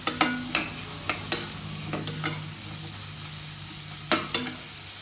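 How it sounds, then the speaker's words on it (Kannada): Chicken fries in oil with turmeric. A low, steady sizzle plays under repeated sharp clinks of a spoon scraping and tapping the pan, and the clinks come in short clusters. "ಚೆನ್ನಾಗಿ ಫ್ರೈ ಆಗಬೇಕು."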